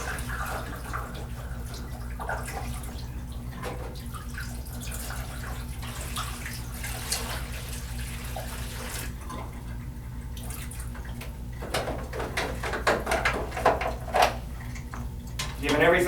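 Water runs and splashes through the emptied tubs of a roller-style film processor with the stoppers out, a steady rinsing wash with scattered drips and clatter, growing busier toward the end.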